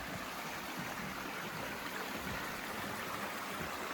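A creek on the Appalachian Trail in July runs at low flow, giving a steady, soft rushing and trickling hiss that stays even throughout with no voices.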